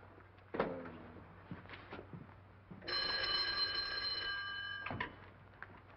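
An old telephone bell rings in one continuous, bright, metallic peal lasting about two seconds in a 1939 American mystery film, set among faint room noises and a few knocks and clicks.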